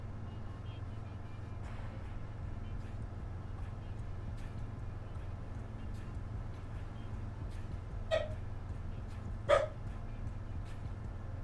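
Two short, fairly faint dog barks from Farming Simulator 25, spaced a second or so apart, rise over a steady low engine drone of farm machinery.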